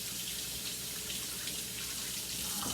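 Kitchen tap water running steadily into a sink while something is rinsed off, a continuous close splashing hiss with no pauses, during home cooking.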